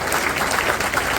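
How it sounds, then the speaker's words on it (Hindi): Brief burst of audience applause welcoming a teacher at a government school event, many hands clapping densely and evenly throughout. "एक बार जोरदार तालियां बजाकर लाल जी माठ साहब के स्वागत करें।"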